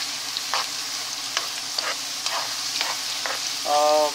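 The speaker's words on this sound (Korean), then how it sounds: "이렇게 가볍게 한번 튀기고 다 타기 전에 꺼내서 옆으로 옮겨놨다가 한번 더 튀기는" Thin potato fries frying in hot oil on a first light fry, a continuous close sizzle broken by occasional clinks and stirring taps.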